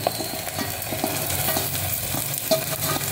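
Beans, carrots and green chillies hitting hot oil with sesame seeds in a pan for vegetable rice upma, a constant close sizzle with rhythmic scraping stirs and a few sharp clinks.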